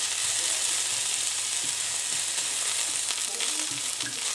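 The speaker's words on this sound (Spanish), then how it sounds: "Lo mezclamos muy bien para que se sofría junto a la cebolla." Ham and onion frying and being stirred in a pan, a steady close sizzle with occasional scraping stir clicks and no talk.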